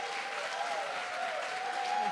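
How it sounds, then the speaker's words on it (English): An audience at the Crossroads Coffeehouse 25th-anniversary celebration applauds Linda and Mark Kozina with thick, continuous clapping, with a faint steady whistle-like tone running underneath. "So a big round of applause for Linda and Mark Kozina"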